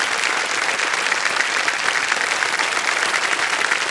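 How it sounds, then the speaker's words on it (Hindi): Studio audience on a TV quiz show applauding a contestant, loud, dense, continuous clapping that holds at an even level throughout. "ताली बज जाए इनके लिए"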